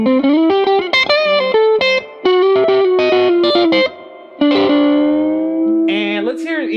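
Moniker electric guitar heard outdoors, with the pickup selector in one position, plays a run of bright, effects-laden notes and chords under a chorus-like shimmer, with brief pauses between close, loud phrases.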